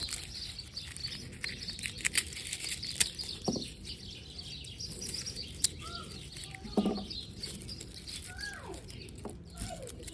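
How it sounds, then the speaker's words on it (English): Birds chirp outdoors around a garden where garlic is being planted, with scattered short calls and tweets, some near and some farther off, over a soft rustling background. "Birds are accompanying me"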